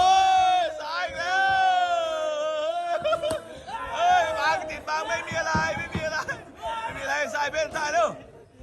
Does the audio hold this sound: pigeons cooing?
no